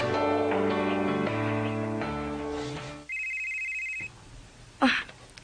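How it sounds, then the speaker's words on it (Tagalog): A cellphone ringtone plays as a melodic electronic tune, then a single sustained beeping tone sounds, followed by a short burst of voice. "Ang akong cellphone."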